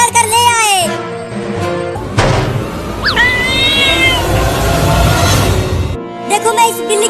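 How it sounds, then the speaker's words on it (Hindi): Cat caught and brought home in a comical household scene, giving a few loud, drawn-out meows close by, with a voice talking before and after the calls. "देखो मम्मी, हम बिल्ली को पकड़ कर ले आए।"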